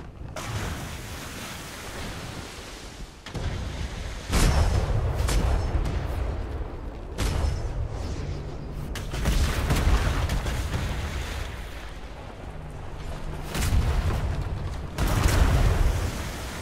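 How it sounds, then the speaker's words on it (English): Ship cannons firing in the online pirate game Atlas during a naval fight: several loud booming blasts at irregular intervals, each with a sharp attack and rumbling tail, over creaking ship noise and sea ambience. "If you hit him with the back cannons now, we might finish him."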